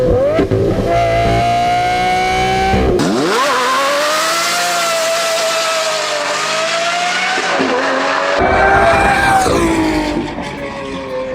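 A Lamborghini Murcielago V12 screams through high revs, dropping sharply at a gear change before climbing again in a loud, sustained wail, then shifting once more near the end.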